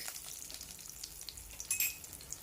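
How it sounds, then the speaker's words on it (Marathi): Red chillies, curry leaves and a pinch of asafoetida temper in hot oil for sambar, a quiet, even sizzle with light stirring and a brief metallic clink near the end. "लाल मिरच्या, कढीपत्ता, थोडासा हिंग। तडका आपला हा छान तयार झालेला आहे।"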